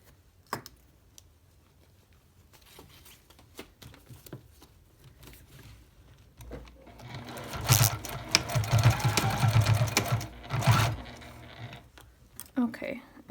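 A sewing machine stitching a plastic-lined makeup bag runs in a loud rapid whir for a few seconds after quiet handling noises, with a person talking before and around it.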